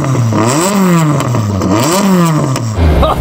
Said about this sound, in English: I'm going to rev up this GR Corolla BTCC car.